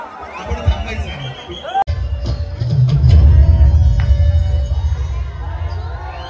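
A crowd claps and cheers at a Dahi Handi festival for a Govinda troupe, building into a loud, continuous roar of clapping and shouting, with people talking nearby throughout.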